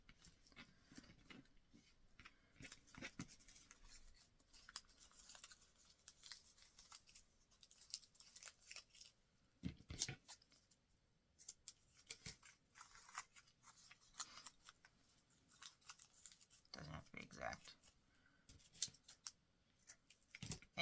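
Scissors cutting off the tip of refolded paper for a carnation flower: quiet, close-up snips and paper rustling in scattered bursts, with a few louder cuts spread across a long, soft stretch.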